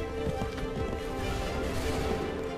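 A horse gallops in Assassin's Creed 3, its hooves drumming in a quick, steady rhythm beneath a loud wash of game sound.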